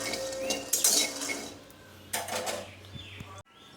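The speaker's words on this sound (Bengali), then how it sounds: "শুধু কড়াইয়ে বাদাম কটা নেড়ে নেবো" Peanuts are stirred dry in a metal kadai without oil, rattling and scraping against the pan in close clattering bursts, with a sharp clank near the end.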